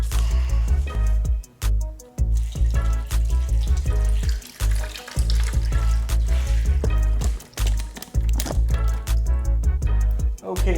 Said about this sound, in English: now let's go ahead and drain the coolant